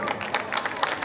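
Audience at a Ramlila event clapping, a continuous patter of many hands with scattered louder claps standing out, moderately loud and crowded, with a faint murmur of voices mixed in.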